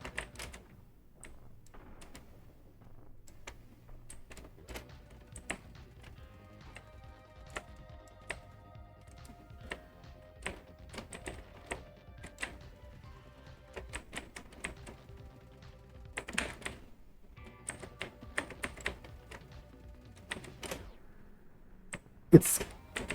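Computer keyboard keys and a mouse click during a playtest of the game Overdawn. Faint, irregular clicks come in scattered bursts, with a few sharper taps standing out.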